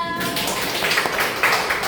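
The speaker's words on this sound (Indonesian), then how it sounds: "beri tepuk tangan buat kita semua" A school class clapping together in a classroom, a brief burst of many hands at close range mixed with a voice.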